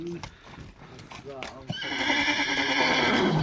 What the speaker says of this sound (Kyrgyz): Мына ушул айгыр ушунун үйүрү экен.